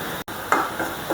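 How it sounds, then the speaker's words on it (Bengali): Onion and garlic frying in a pan for a dal with jute leaves and Bombay chilli, giving a short burst of soft sizzling and stirring scrapes close by. "পেঁয়াজ রসুন আমার ভাজা হয়ে গেছে, এখন আমি দিয়ে দেবো ডাল।"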